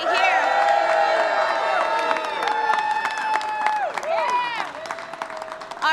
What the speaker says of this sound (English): Look at this crowd right behind me